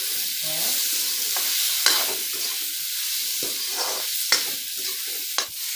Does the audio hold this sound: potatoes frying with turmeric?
yes